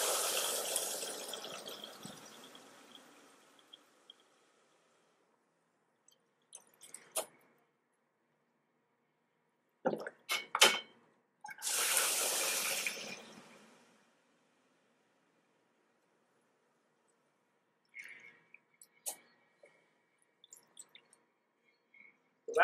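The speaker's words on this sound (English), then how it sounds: "This manifold is going to fill the bottles in around 10 seconds" Pump filling seven bottles at once through a stainless steel fill manifold on a mixing vat: a long hiss of rushing liquid at the start, then scattered splashes, drips and short bursts of flow with quiet gaps between.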